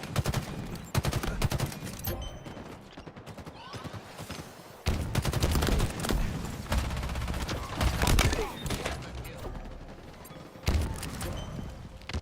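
Halo Infinite firefight with repeated bursts of rifle gunfire, dense rattling volleys and impacts coming in waves, loud and continuous, with players chatting over the game audio.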